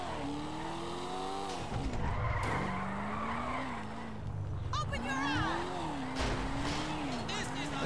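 Car tires squeal and skid through long drifting slides in GTA 5, with a revving engine pitching up and down beneath, loud and continuous for several seconds.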